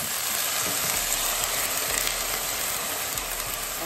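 Minced pork and tofu simmer in a sauce of soy sauce, dark soy, sugar and oyster sauce, giving a steady, close bubbling sizzle and hiss that holds evenly throughout with no talk.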